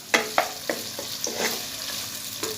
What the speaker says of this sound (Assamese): এনেকৈ অকণমান সময় ভাজি ল'ম